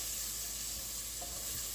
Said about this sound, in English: we are going to saute the onions and the garlic until they are soft